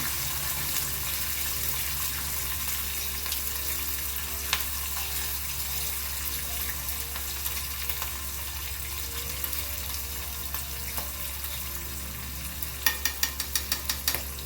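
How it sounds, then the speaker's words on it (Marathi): Green chillies and roasted sesame seeds sautéing in a pan for dhokla tempering, a steady close sizzle with occasional stirring scrapes and clicks, louder taps near the end, with no talking. "ही हिरवी मिरची एक दोन मिनिटे आपल्याला परतवून घ्यायची आहे"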